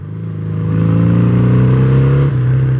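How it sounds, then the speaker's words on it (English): A BMW R75/5 boxer twin motorcycle engine idles then rises to a steady, deep, throbbing exhaust note, holding before dipping briefly near the end. "There's a very nice sound at the exhaust,"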